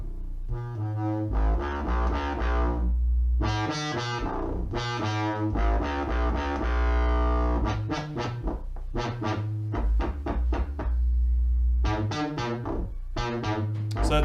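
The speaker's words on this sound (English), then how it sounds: "So that's the phase stable phase modulation." Phase modulation tones from a modular synthesizer, with bright, harmonically rich, distorted bursts that start and stop in uneven phrases and sweep in pitch, loud and alone with no voices.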